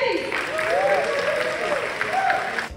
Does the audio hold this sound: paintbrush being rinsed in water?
no